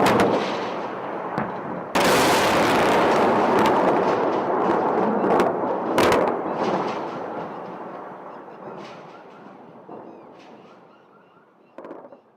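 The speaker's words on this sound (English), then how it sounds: "the U.S. began its invasion and occupation of Iraq with massive airstrikes across the country in an operation called Shock and Awe" US airstrikes on Iraq during the Shock and Awe bombing, recorded at a distance: a sudden heavy blast followed by sustained roaring rumble and scattered sharp cracks of explosions and gunfire that slowly fade, with a last burst near the end.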